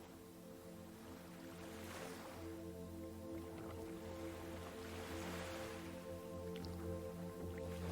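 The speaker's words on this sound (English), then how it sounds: "You've been paddling along, hugging the cliffy shoreline for several hours now." Gentle water sloshing and dripping as a boat is paddled along a cliffy sea shoreline, soft swells rising and falling beneath a steady low hum, calm and quiet.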